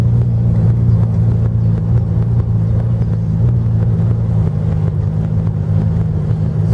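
A 1970 Ford Mustang with automatic transmission driving with its engine running, a loud steady deep rumble that holds throughout, close and without talk.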